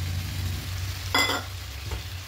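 Kadai chicken masala paste sizzles in a kadai as it is stirred, a short close frying hiss with a brief scraping burst in the middle.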